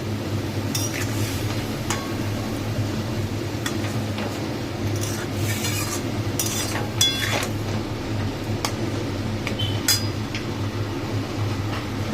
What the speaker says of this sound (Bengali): নুন দিয়ে এবার এটাকে ভালো করে নাড়বো।